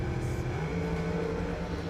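Drag race cars at a Christmas bracket event rattling the tires at the line, a loud droning engine rumble with shifting pitch, brief and steady, without clear talk.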